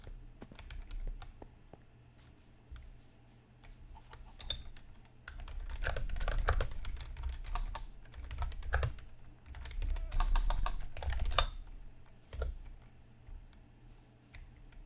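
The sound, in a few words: computer keyboard typing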